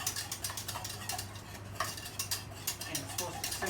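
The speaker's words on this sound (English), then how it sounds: "Let's stir this thing up." A utensil scrapes and clinks against a hot pot while stirring a potato salad mixture, steady irregular scraping and tapping close by over a low hum.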